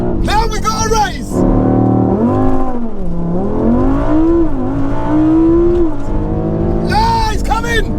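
Family cars, one with a performance remap, rev up and accelerate side by side in a race, engine tones climbing and sliding in pitch under excited shouting voices.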